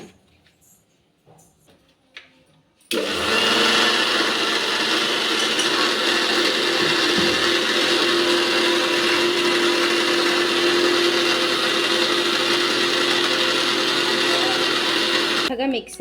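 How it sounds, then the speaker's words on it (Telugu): Mixer grinder finely grinding sugar and cake flour, starting after a few quiet seconds with faint handling, then a loud, steady whirring motor roar that runs until it abruptly stops near the end. "మెత్తగా మిక్సీ పట్టేసుకుందాం దీన్ని కూడా"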